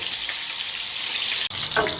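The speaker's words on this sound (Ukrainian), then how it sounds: "Дуже гарно шкварчить." Pork ribs sizzle and fry in a pan with sweet peppers being cooked, a steady close crackling hiss that runs continuously, with a brief break and a sharper burst of spitting near the end.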